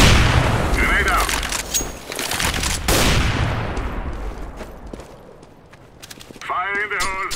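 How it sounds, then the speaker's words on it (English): A grenade bursts with a loud boom in a Counter-Strike match on dust_2, followed by scattered gunshots and footsteps, then quieter ambience before a radio voice cuts in near the end. "Grenade down."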